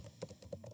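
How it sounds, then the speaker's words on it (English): Typing on a computer keyboard: a quick patter of soft key clicks, a few louder taps standing out, fairly close and alone. "So I can go back here and maybe I can start typing"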